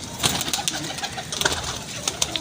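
A loft of pigeons coos and rustles close by, with soft overlapping coos and scattered wing flutters against a busy background.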